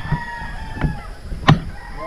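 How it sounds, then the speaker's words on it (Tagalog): Chickens and roosters on a farm give a few short clucks and calls, spaced out over a couple of seconds, moderately close against a quiet background. "Daming manok."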